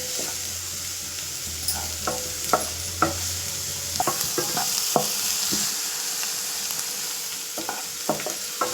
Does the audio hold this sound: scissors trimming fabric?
no